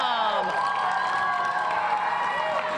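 A crowd of friends cheers and shouts together at an early-morning gathering, a loud, sustained burst of voices and whoops close by.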